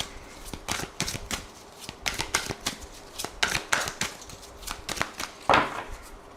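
A deck of tarot cards is shuffled by hand in quick, crisp riffling bursts and flicks, close and fairly loud, with no voices.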